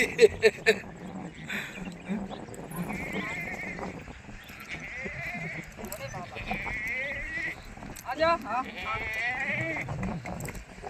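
Goats being herded bleat repeatedly, several calls rising at intervals near and far, with people talking throughout and light clopping steps.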